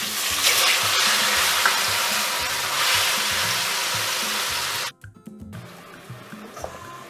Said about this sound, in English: So I'm going to deep fry this.